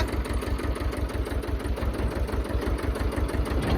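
A farm tractor engine idles nearby with a steady, loud low-pitched chugging pulse, rapid and even throughout, with no voices over it.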